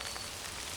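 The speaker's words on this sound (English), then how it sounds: "I can't believe it's starting to rain." Light rain beginning to fall over a sweet potato patch outdoors, a soft steady hiss of drops on surfaces, faint and continuous with no voices.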